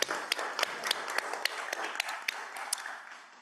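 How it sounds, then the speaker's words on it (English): A small group at a school district board meeting applauds the board president, sparse and fairly quiet, with distinct individual claps tapering off after about three seconds. "Let's give him a round of applause."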